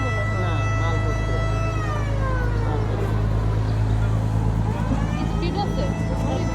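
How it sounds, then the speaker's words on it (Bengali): A trawler boat engine on the water near Barkal in Rangamati drones with a steady, loud, low harmonic hum and whine, while voices murmur faintly underneath. "ওই যে ট্রলারটা।"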